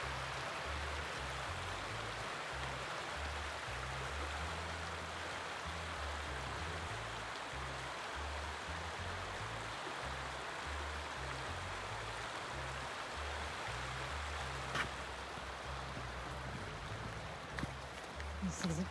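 A river flows steadily beside a pretty trail, giving a constant full-band water rush with a low rumble and a few faint clicks near the end, no speech.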